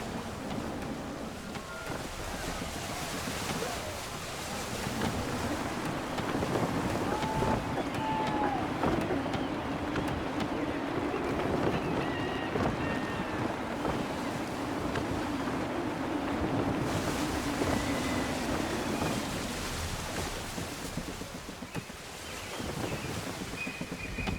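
Gusty wind roars steadily around a sailing ship in the video game Assassin's Creed 3, blending with the rush of sea water into a loud, unbroken blustery wash that eases near the end.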